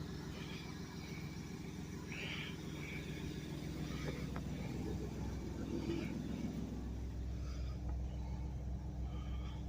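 A Chevrolet Blazer fitted with a new fuel pump idles steadily, producing a low continuous engine rumble with faint higher whines and rattles above it, at a moderate, unchanging level.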